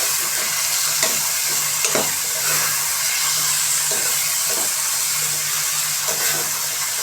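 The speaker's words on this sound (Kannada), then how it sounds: "ಕಟ್ ಮಾಡಿ ಇಟ್ಟಿರೋ ಟೊಮೆಟೊ, ಇದೆಲ್ಲ ಒಂಚೂರು ನೀಟಾಗಿ ಫ್ರೈ ಆಗಲಿ" Chopped tomatoes fry for veg biryani, giving a loud, steady, close sizzle in a hot pan with faint scrapes of stirring now and then and no voices.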